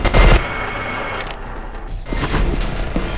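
A grenade goes off in the co-op shooter E.Y.E. Divine Cybermancy: a loud, low boom at the start, followed by a rumbling tail and scattered softer thuds and bursts of distant gunfire.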